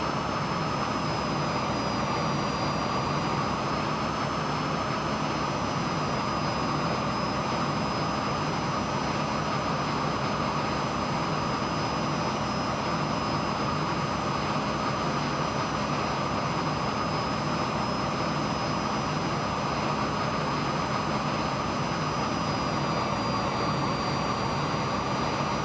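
Aermacchi MB-339 jet in Microsoft Flight Simulator 2020, a steady sustained engine roar with a thin high whine riding on top, constant and loud for the whole stretch, no voices.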